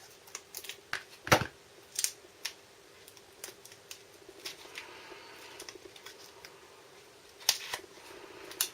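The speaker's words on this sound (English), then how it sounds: "Good job I've still got my scissors here" Scissors snip and crunch through the tough plastic packaging of a U.S. military MRE, a series of sharp close clicks and cuts scattered irregularly with quiet gaps between them.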